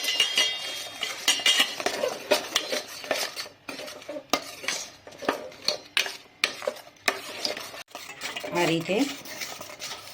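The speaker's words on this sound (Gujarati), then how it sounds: "ગોળ મિક્સ કરીને હલાવતા જઈશું" A spoon stirring jaggery into lemon chutney in a pan, with repeated scraping clinks against the metal in an uneven rhythm close up, and a soft sizzle beneath; a voice speaks briefly near the end.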